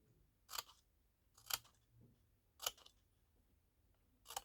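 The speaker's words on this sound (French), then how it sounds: "Au niveau de mes petits traits là, je vais venir les découper." Scissors snipping small slits into craft material for a small suitcase project, four crisp separate cuts about a second apart, close and clear against a quiet room with no talking.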